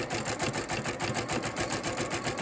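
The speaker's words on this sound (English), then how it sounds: "We're going to sew all the way up until we get right to the join." A sewing machine stitching fabric-wrapped rope trim, a rapid, even mechanical chatter of the needle running continuously and close up, with no voices.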